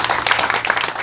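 Brief burst of audience applause at a comedy show, a crowd clapping fairly loud and close for about a second.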